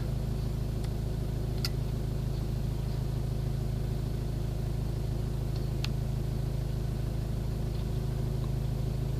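A 2004 Renault Scenic 1.9 dCi diesel engine idles steadily with a low, constant rumble throughout, joined by a couple of faint clicks.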